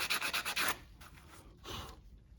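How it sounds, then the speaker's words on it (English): Fine sandpaper rubbed around the rusty lip of a front wheel hub on a 2003-2023 Lexus GX470/GX460, a quick rhythmic series of close scratchy strokes, then a pause and one longer softer stroke. "just use some fine sandpaper and just go around and sand this little lip until it's nice and smooth"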